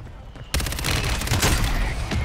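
Heavy gunfire erupts in a Call of Duty Warzone firefight, a dense rapid burst of loud overlapping shots and booms after a brief quieter lead-in, continuing steadily to the end with no clear talking.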